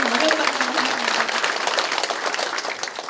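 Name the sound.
audience applauding at office opening ceremony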